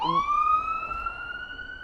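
An ambulance siren wails loudly, its tone sweeping upward and holding high, heard briefly and close by.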